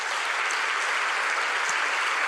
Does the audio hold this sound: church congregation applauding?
yes